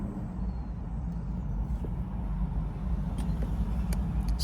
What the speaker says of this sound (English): It's fun to drive this little car